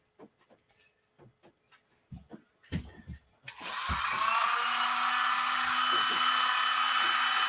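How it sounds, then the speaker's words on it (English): Part chucked and spinning in a drill, ground with a Dremel while wrenching on RC trail truck and buggy parts in a trailer: a few clanks and handling knocks, then a loud steady high-pitched grinding whine. "See, I got this chucked up in the drill. I'm gonna spin it and hit it with a Dremel,"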